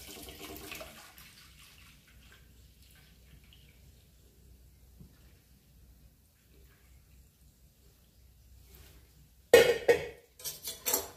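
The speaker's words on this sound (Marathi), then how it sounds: "आता आपण त्याच्यात दूध ओतून घेऊया" More than a litre of cow's milk is poured into a thick-bottomed steel pot: a long near-silent stretch, then a sudden loud splashing gush that comes in a few bursts at the end.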